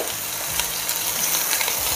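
Ratte potatoes sear in a hot cocotte over high heat, giving a loud, steady sizzle and crackle of frying with faint stirring scrapes, close and continuous without talking.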